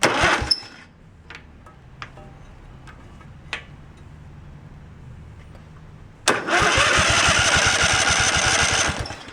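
A Craftsman riding tractor engine cranks over during a spark test: a long, loud, rhythmic churning burst of the starter turning the engine, preceded by a few sharp clicks and quiet handling noise.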